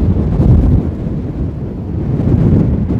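Strong wind buffeting the microphone outdoors in Agadir, a steady loud broadband roar that swells and eases slightly over a few seconds, with no talk.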